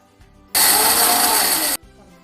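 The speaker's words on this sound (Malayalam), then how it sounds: "ആദ്യം കുരുമുളക് തന്നെ ഒന്ന് പൊടിച്ചെടുക്കണേ" A mixer grinder roars loudly for about a second as it grinds black pepper for a Kerala-style beef fry, starting and stopping abruptly, close by.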